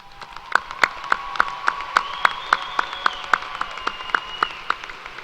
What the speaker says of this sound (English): we'll applaud them one more time, please recognize and congratulating them for their successes